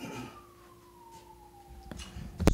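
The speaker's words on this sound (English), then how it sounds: "Do you care about the sirens?" A distant siren wails with a slowly falling tone behind faint background noise, ending in a couple of sharp nearby knocks.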